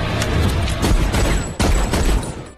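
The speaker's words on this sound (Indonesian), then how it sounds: "tembakan dari Tulip tidak akan mempan pada Tuhan" Rapid bursts of gunfire in the TV series Preacher, loud and dense, with a sharp crack near the middle before the shooting tails off.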